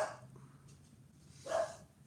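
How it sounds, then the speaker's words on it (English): An old dog lets out a single loud bark right into a microphone near the start, with a second, stronger bark about a second and a half later over faint background hum. "The one that barked into the microphone."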